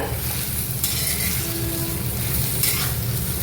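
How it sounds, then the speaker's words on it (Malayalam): Cut eggplant sautés in a pan for an eggplant masala curry, a steady close sizzle with a few sharper bursts as it is stirred, and no speech. "നല്ലതായിട്ട് വഴറ്റി എടുക്കുക."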